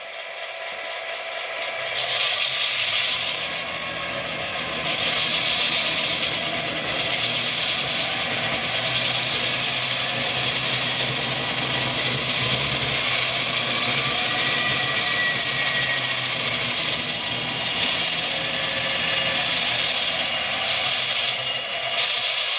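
MTH HO scale GP38-2 model diesel locomotive running a pull test, a steady mechanical whir and hum of the small motor and gears with pulsing variations, close and continuous for the whole stretch without talking.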